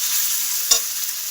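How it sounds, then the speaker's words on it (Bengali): Ginger-garlic paste frying in a pan for an egg masala pulao, a steady high hiss of sizzling oil throughout with one brief stir or clatter partway, close and alone without talk. "আদা রসুন বাটাটা ভালো করে ভেজে নেব।"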